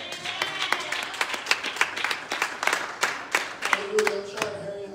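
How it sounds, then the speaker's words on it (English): A church congregation claps along in a sanctuary, a quick rhythmic run of sharp claps at moderate distance, joined near the end by a brief sung or spoken tone. "Clap your hands to God."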